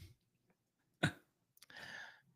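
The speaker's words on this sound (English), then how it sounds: "I am coughing a little bit." A sharp, short cough bursts out close by, followed by a breathy throat sound a moment later, with near silence around them.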